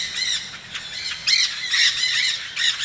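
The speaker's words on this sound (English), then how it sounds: "Here come a platoon of green parakeets, by far the most jarring with their shrieking." A flock of green parakeets shrieks in repeated harsh, squealing calls, several overlapping bursts in quick succession, fairly close and loud with little else behind them.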